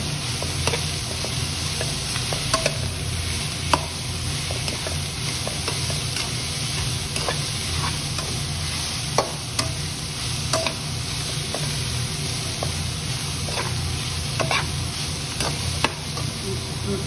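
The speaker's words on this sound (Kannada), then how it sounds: "ಸೊಪ್ಪು ಒಗ್ಗರಣೆ ಹಾಕಿ ಮುಗೀತು" Drumstick leaves frying in a hot tempering for a Karnataka-style bassaru, a steady crackling sizzle with occasional sharp pops and stirring, close and continuous throughout with no talking.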